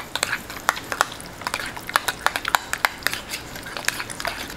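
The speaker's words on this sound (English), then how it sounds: "And give it a stir." A spoon scrapes and clinks through creamy leftover Thanksgiving soup in a pot, a brisk string of sharp, close taps and swishes repeating in an irregular rhythm.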